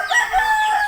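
Chickens clucking close by among a flock of around sixty birds and chicks, a short burst of calls lasting under a second.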